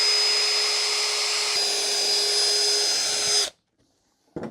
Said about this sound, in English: create an indentation on the wood to help the drill stay center